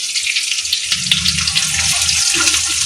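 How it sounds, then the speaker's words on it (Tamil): A tempering of onions frying in a pan for kuzhambu gives a loud, continuous hiss of hot oil, with a few soft low knocks and scrapes underneath. "இப்போ இந்த கொதிக்கிற குழம்புல நம்ம தாளிச்சதை கொஞ்சம் ப்ரௌனாக வரணும்"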